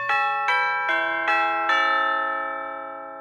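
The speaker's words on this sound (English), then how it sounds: "orchestra chimes, sometimes referred to colloquially as tubular bells," Sampled orchestra chimes (tubular bells) strike five descending notes in steady succession, each a bright metallic clang with long ringing overtones that overlap and sustain, fading slowly after the last stroke.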